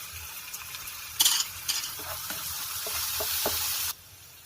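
Curry leaves and ginger garlic paste hit hot oil in a pan with a sudden crackling burst, followed by a steady sizzle and a few scraping stirs before the frying noise cuts off abruptly.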